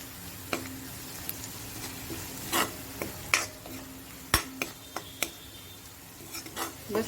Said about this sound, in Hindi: मसाले को बहुत अच्छे से भून लेंगे